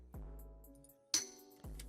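A bright metallic clink, a bell or shaker sample, rings out over a low tone, then a short repeating pattern of percussive hits follows, fairly loud and close, in a phonk beat made in FL Studio.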